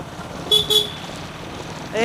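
A motorcycle horn gives two short toots in quick succession over a steady roadside engine rumble, with another vehicle sound rising at the end.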